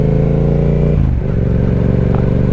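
A Yamaha R7 motorcycle with an aftermarket intake and ECU flash idles while warming up, a loud steady throbbing engine note that dips briefly before settling back.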